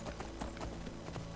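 Horse hooves galloping in Skyrim, a quick steady clip-clop rhythm of several hoof strikes, fairly quiet and alone.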